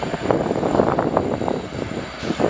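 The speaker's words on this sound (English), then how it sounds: "there's no easy way for me to see the train, but you can hear it" Train with several locomotives rolling past, a loud continuous roar with rhythmic pulsing swells of engine and wheel noise that ease off near the end.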